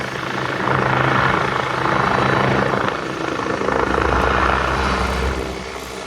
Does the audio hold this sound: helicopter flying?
yes